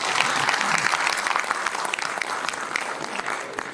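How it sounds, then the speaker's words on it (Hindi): A crowd at a Hindi poetry recital claps steadily and loudly, a dense burst of applause with faint voices underneath. "आप तालियां बजा दीजिए तो मैं सुना दूं।"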